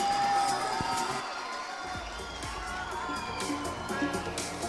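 A large crowd applauds and cheers steadily for the newly elected first princess at the royalty pageant of the 34th Festa Nacional do Pinhão in 2024, a dense, continuous wash of clapping with a few voices in it.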